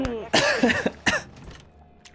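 A man coughs during a livestreamed video game session, with two or three sharp, loud bursts close to the mic, followed by quieter throat sounds and brief breathy noise.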